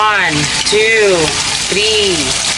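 Cassava crisps frying in hot oil, a steady bright sizzle heard under a person talking with rising and falling voice.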